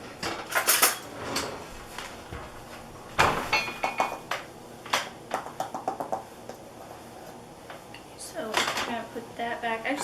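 Cutlery and dishes clink and rattle in a home kitchen while a knife is fetched during apple pie baking, close, irregular metallic chinks and clatters, with a drawer or cupboard sound and a voice speaking in between.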